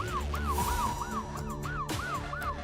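A police car chasing a suspected drunk driver into a parking garage sounds its siren, a rapid repeating wail cycling about three times a second, moderately distant and echoing, with engine rumble underneath.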